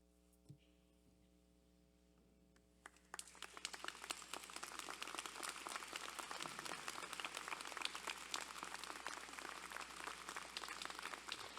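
An audience at a University of Guelph convocation ceremony bursts into sustained applause after a few seconds of quiet room hum, the dense clapping staying steady and loud to the end.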